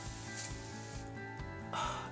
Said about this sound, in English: the Avene Thermal Spring Water for sensitive skin. This is basically just a hydrating mist.